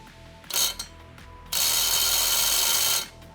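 Hercules brushless impact driver on a nut torqued to 400 foot-pounds, a short hammering burst then a longer loud sustained rattle that cuts off, no talk.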